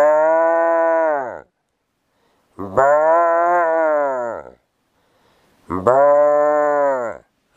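A man imitates cattle with his own mouth, giving three long, loud, droning moos, each swelling and then dropping off, separated by brief silences, close up with no other sounds.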